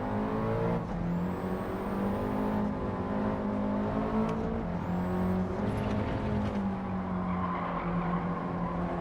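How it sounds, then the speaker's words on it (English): A pink limited Premier Edition race car passes during online lobby racing in Gran Turismo 7, with steady engine drone and tire noise sweeping across the scene over about nine seconds, loud and continuous. "I just wanted to have a nice look at the pink car as it went by"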